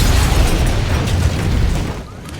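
A bomb rigged to a tripwire detonates in a TV drama, a loud, sustained roaring blast with a dense low rumble that dies down slightly toward the end.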